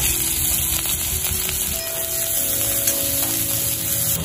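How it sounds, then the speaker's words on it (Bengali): A few cumin seeds tempering in hot oil in a pan, a steady close sizzle and hiss with faint crackles, continuous throughout with no talk. "তেলটা গরমই আছে, অল্প কয়েকটা জিরে ফোড়নে দিলাম।"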